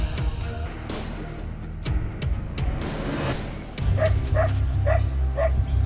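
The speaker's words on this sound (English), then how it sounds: "We were very worried for these dogs" Dogs in Goa let out several short barks and yips at close range over a noisy outdoor background, with a quick run of repeated yelps toward the end.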